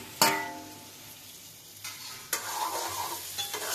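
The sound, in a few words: sautéing potatoes with teasel gourd and pointed gourd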